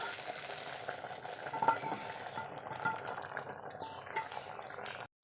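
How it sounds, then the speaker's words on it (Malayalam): A spoon stirring drumstick sambar vegetables in a pan, close scraping and soft sizzling with light clinks, ending abruptly. "ഒന്ന് ഇളക്കി കൊടുക്കാം."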